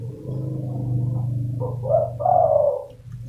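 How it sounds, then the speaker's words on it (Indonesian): A newly tethered wild fighting decoy bird calls from the ground, giving a low steady coo followed by two short rising call notes, close and clear with no talk. "Ini burung masih lumayan baru saya ikat, namun sudah berbunyi di tanah."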